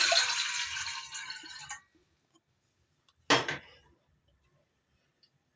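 Water gushes into a cooking pot for about two seconds, then after a pause a second short pour splashes in; nearby, fairly loud, with no talking.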